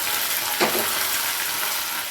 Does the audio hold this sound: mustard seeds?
yes